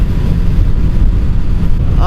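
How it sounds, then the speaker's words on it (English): Wind gusting against a microphone outdoors on a clear, cold spring day in Pennsylvania, a low steady rumble and buffeting roar filling the clip, loud and close, with no clear voice. "Little windy."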